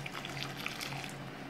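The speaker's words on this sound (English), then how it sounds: "So now I'm gonna add a little bit of the cinnamon water that I removed from the pot," Cinnamon water pours into a pot of thickening Jamaican cornmeal porridge in a home kitchen, a soft, steady liquid trickle heard up close for a brief moment.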